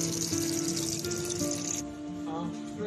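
Running water from a tap splashes steadily as boiled loach fish are rinsed in a sink, close and moderately loud, with faint talk in the background.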